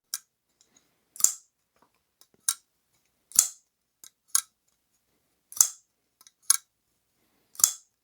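Sharp metallic snicks ring out one at a time with gaps between, about eight crisp clicks of a knife blade flicking open and shut.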